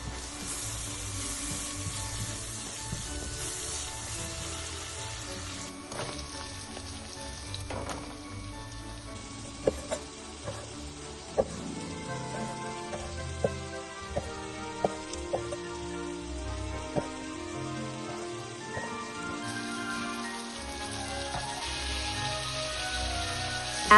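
Diced onion, carrot and celery sizzle steadily in a pot, a continuous soft hiss with occasional small pops, heard under quiet background music.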